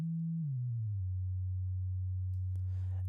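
A steady synthesized sine tone glides downward to a low pitch and holds there, pure and humming, with a brief burst of noise near the end.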